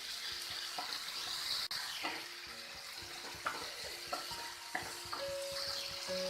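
Chopped tomatoes with a spoonful or two of water cook in a pan, giving a soft, quiet sizzle and bubbling broken by light clicks and scrapes of stirring.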